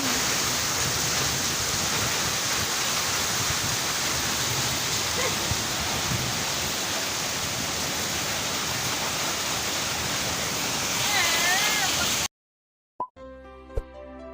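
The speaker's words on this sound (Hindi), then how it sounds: "ये मीरपुर खास में धुआंधार बारिश हो रही है।" A heavy downpour in Mirpurkhas, Sindh, Pakistan, during flooding: a dense, steady roar of rain for about twelve seconds, then an abrupt cut to near silence with a couple of faint knocks.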